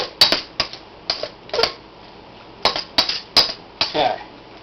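A knife clinks and taps against a dish while pasta primavera ingredients are mixed, giving a series of sharp, close, irregular metallic strikes with brief pauses between them.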